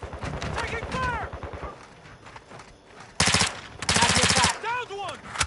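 Rapid automatic gunfire in a video game, fired in two close, loud bursts of quick repeating shots, with game voice lines called out before and after.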